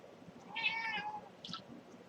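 Pet cats meowing indoors, one drawn-out meow followed by a second short one, close and fairly quiet.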